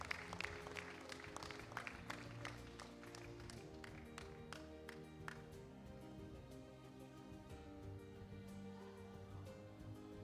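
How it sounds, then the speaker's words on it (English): Scattered clapping from a small church audience rattles over sustained musical tones, the claps thinning out as the notes carry on. "Let's give a round of applause for Irvin."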